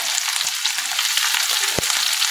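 Onion, garlic and whole spices such as cinnamon, cloves and fennel fry in hot oil for a Tamil mutton meatball curry; a steady, bright sizzle crackles close up, with a few soft stirring knocks and no talking.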